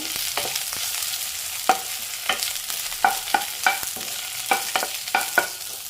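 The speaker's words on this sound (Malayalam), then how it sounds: "അടുത്തായിട്ട് നമുക്ക് വെണ്ടയ്ക്ക ഇട്ട് കൊടുക്കാം ഒന്നിളക്കി കൊടുത്തു" Okra being stirred as it fries in a pan for a Kerala-style okra curry: brisk scraping and clacking strokes at an irregular rhythm over a steady close sizzle, with no talking.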